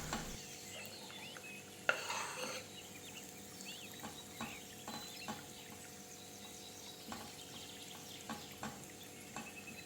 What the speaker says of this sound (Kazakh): Ал енді табаға сұйық май мен сары майды қыздырып, сарымсақ пен пиязды әр қайсысын 1-2 минуттан қуырып аламыз